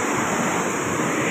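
Fast-flowing water in a stream, a loud, dense and steady rushing wash heard up close, with no voices over it.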